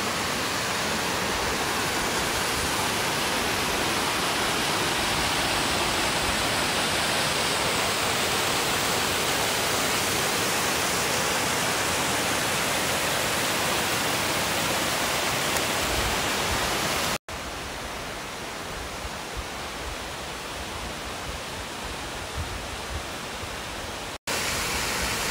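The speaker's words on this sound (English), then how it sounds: "I think this is the best view of the waterfall." Purling Brook Falls in the Gold Coast hinterland pours as a steady, dense roar of falling water, loud and unbroken throughout, with a brief dip in level partway through before the full rush returns.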